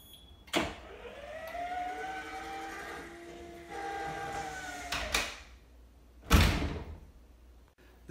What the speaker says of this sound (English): Alexa, trigger closed door.